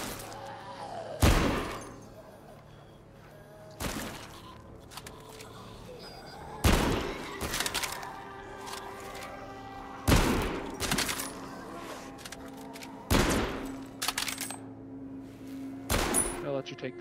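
Single loud gunshots in the VR game Arizona Sunshine 2, spaced every few seconds, ringing out over quiet background sound, with people talking in between.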